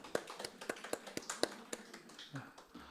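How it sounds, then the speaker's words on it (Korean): A small lecture audience claps in congratulation, a dozen or so distinct, fairly even handclaps in a loose rhythm that thin out and fade toward the end. "박수 한번 해주세요."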